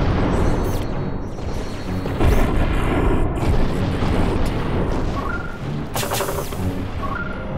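Ship cannons firing in the Treasure Planet game, a series of loud booming blasts and crashing impacts over a dense, rumbling battle din.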